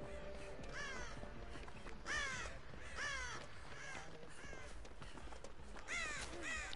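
Crows in the Dead by Daylight video game give a string of harsh caws spaced roughly a second apart, set against a continuous low game ambience with no voices.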